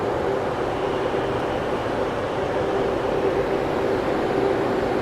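India's Namo Green Rail hydrogen train, a ten-coach service from Sonipat to Jind, gives a steady, moderately loud rolling rumble throughout, with no voices.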